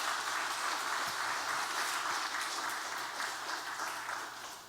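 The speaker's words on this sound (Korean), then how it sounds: "박수 한번 해주시죠." Congregation clapping during a Sunday church service, a dense, even patter of many hands that holds steady and then begins to fade toward the end.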